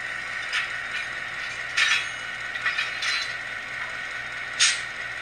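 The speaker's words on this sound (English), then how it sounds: "F3 is the coupler clank" Coupler clank sound effect from an ESU Loksound decoder in an Intermountain FP7 model locomotive, several sharp metallic clanks over a low mechanical hum, irregularly spaced, the loudest one near the end.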